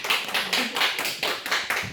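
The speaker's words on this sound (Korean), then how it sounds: "박수로 한번." A church congregation at Sunday worship clapping in a steady, even rhythm, about eight separate hand claps spaced evenly, moderately loud and close.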